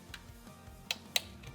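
A torque wrench tightening Jeep valve cover bolts, set to 105 inch-pounds, gives two sharp, close clicks about a quarter second apart over a faint background hum.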